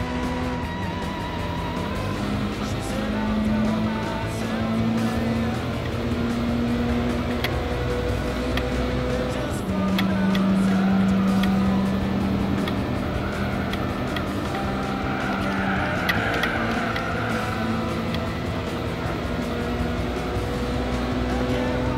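Race car engines in Gran Turismo 4, played on an emulator, a continuous droning engine whine that rises and shifts in pitch as gears change, steady and fairly loud throughout.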